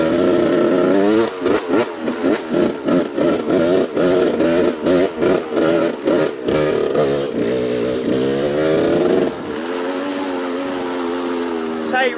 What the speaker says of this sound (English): Riding a dirt bike and not even looking where I'm going.